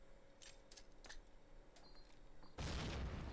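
A grenade explodes in Call of Duty: United Offensive multiplayer as a loud, broadband blast that erupts near the end and stays dense, following a stretch of faint clicks and small game noises.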